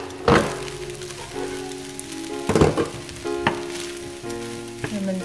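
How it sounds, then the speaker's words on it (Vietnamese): Cooked rice and seasoning sizzle loudly as they are stir-fried in a hot pan, with scraping stir strokes and sharp bursts of crackle over a steady frying hiss. "Mình trộn đều cái cơm với lại cái gia vị."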